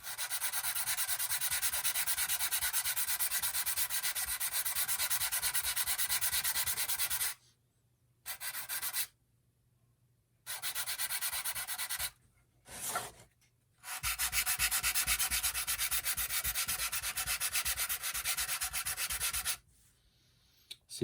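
A hand-held abrasive stick rasps steadily across woodwork for the roof and door, in long continuous strokes broken by a few brief pauses.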